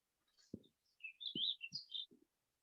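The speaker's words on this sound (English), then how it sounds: "We hear the birds singing." Birds chirping and calling along a spring wildflower trail, several high tweets and short trills in quick succession, with a few low soft thumps underneath, fairly close and clear in quiet surroundings.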